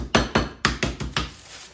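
Meat fillets for German schnitzel are pounded flat with a meat hammer, six close, loud thuds with a slight ringing edge, landing at an uneven, fairly quick pace with no talking.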